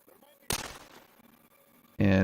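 A pneumatic rifle firing in the video game Metro Exodus, with a sharp loud shot followed by a fading rumble, then a second loud burst at the end.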